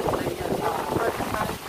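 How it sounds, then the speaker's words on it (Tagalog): Strong wind buffets the microphone with rough, continuous rumbling gusts, and a voice can be heard talking beneath the roar. "sobrang lakas ng hangin"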